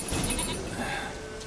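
A goat bleats in The Witcher 3: Wild Hunt, a short wavering cry over a busy game soundscape, close and moderately loud.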